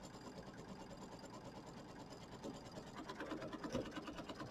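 A sewing machine hums and stitches in a steady, fairly quiet run while working on a Kimberbell mini quilt over batting, growing slightly louder toward the end.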